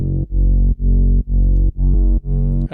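Deep house synth stabs built from two square-wave voices in the same octave with no distortion, a run of six loud, evenly spaced low chord hits with short gaps between them, no talk.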